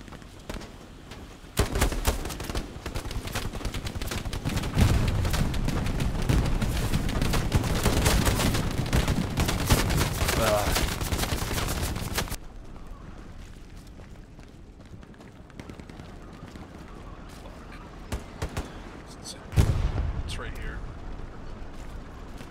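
Dense gunfire and grenade blasts in the Hell Let Loose game's trench fighting, a loud continuous barrage for about ten seconds that drops away abruptly, with a late thud near the end.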